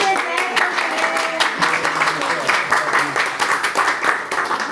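Applause from a small audience at a film screening and debate with a director and producer: steady clapping with some overlapping voices and tonal sound underneath.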